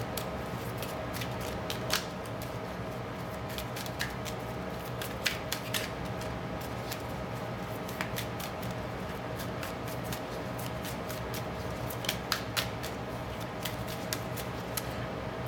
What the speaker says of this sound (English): I'm going to continue shuffling.